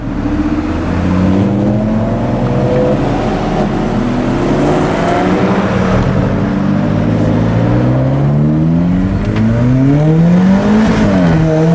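A supercar engine revs hard and loud throughout, its pitch climbing and falling in repeated sweeps as the throttle is worked, with no talk over it.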